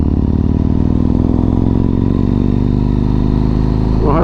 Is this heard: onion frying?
no